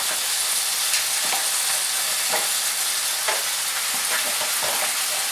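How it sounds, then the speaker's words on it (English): Seafood of scallops, mussels, shrimp and calamari sizzles and fries in a pan for saltado de mariscos, a steady close crackle broken by a few soft stirring scrapes, with no voices. "Then what you're going to do is add your seafood."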